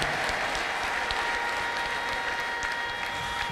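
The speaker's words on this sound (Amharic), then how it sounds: "ማጨብጨብ የሚችል ሰው ሁሉ ከዚህ በላይ ያጨብጭብ" A church congregation claps together during a lively worship service: steady, dense applause that fills the room at an even level throughout, with no clear voices above it.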